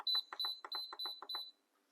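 An Instant Pot electric pressure cooker beeps after its pressure-cook timer is set for ribs: a quick run of about eight bright, evenly spaced electronic beeps, close and clear in a quiet kitchen, then stops.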